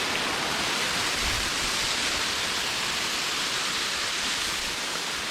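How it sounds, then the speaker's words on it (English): A jungle waterfall on Apek Hill near Kuala Lumpur roars in a continuous, loud, broadband rush of falling water with no breaks. "There's the waterfall for you."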